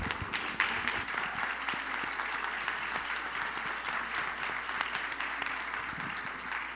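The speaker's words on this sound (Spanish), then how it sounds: "Un fuerte aplauso, por favor." An audience at a panel event on care and sustainability breaks into steady, sustained applause, dense clapping filling the whole stretch at moderate distance.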